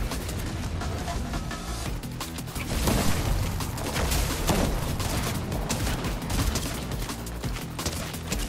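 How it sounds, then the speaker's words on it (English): Rapid gunfire from a Fortnite Zero Build battle royale match crackles continuously in dense volleys, loud and busy throughout, with no talking. "Someone's shooting at me."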